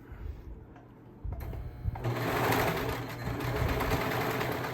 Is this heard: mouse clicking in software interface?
no